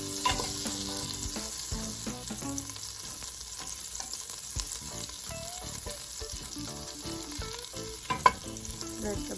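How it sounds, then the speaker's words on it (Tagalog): Butter melts and sizzles with minced garlic in a pan, a steady close frying crackle with occasional utensil clinks and stirring sounds, no talk. "Let the butter melt."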